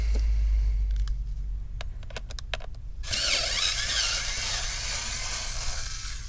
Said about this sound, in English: I need to get a manual screwdriver to unscrew it.